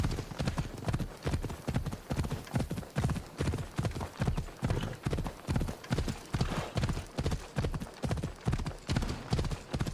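A horse gallops in Assassin's Creed Odyssey, its hooves pounding in a steady, rhythmic clip-clop close by, with faint other game sounds underneath.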